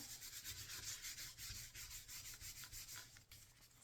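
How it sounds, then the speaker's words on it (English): Dry, steady rubbing of a hand or tool over a slimline paper card, pressing down glued sprig and leaf paper pieces; a soft, continuous scuffing close by with a faint rhythmic texture, heard alone. "Sometimes I'll turn it upside down, give it a rub."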